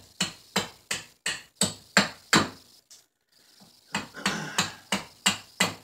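Axe strikes slicing into walnut wood while carving a spoon: a steady series of sharp, close chopping knocks, about two per second, with a brief pause before the rhythm resumes.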